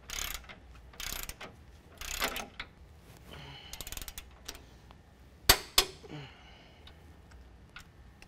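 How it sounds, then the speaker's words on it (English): A ratchet wrench clicks in short bursts while tightening rear crossmember bolts on a 2014–2017 Chevy GMC 1500 4WD during a 4.5-inch Havoc Offroad lift kit install. A few sharp metallic knocks follow in an otherwise quiet garage. "we're going to go ahead and tighten down our crossmember bolts to 125 foot-pounds"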